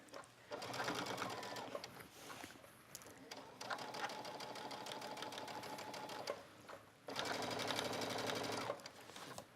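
A serger runs around a curved shirt hem in three sustained, even whirring stretches with brief pauses between them, close and steady.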